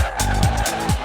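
Race cars on a former parking-lot track in Recife, their engines loud and close, revving in repeated rising sweeps while tires skid and squeal.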